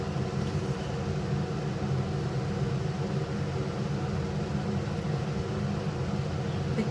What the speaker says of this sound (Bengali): দেখতে পাচ্ছি কি সুন্দর ফুটছে।